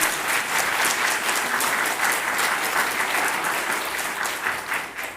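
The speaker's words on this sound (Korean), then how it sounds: "박수 한번 하시죠." An assembled audience at a gathering honoring Reverend Sun Myung Moon breaks into warm, sustained applause, many hands clapping evenly before it starts to taper off at the very end.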